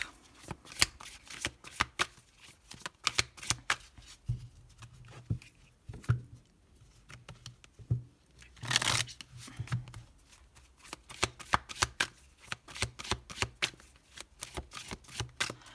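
Tarot cards are shuffled by hand, a long series of close, crisp riffling bursts and flicks with short pauses between, quiet room, with a faint voice at moments.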